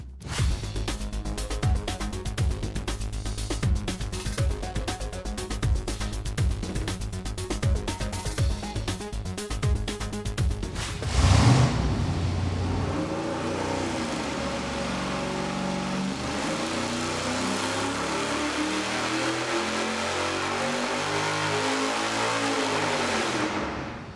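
A V8 engine with a boost setup roars steadily on a dyno fitted with larger stepped headers of 1 3/4 inch tubes stepping to 1 7/8 inch, a hard rev burst near the middle, then a continuous loud drone.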